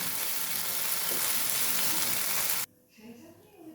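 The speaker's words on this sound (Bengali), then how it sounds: "সাবুগুলো ভালো করে ভেজে নেব।" Sago pearls crackle and sizzle loudly as they dry-fry in a hot pan for sago payesh, a constant fizzing hiss that cuts off abruptly near the end, leaving quiet room noise.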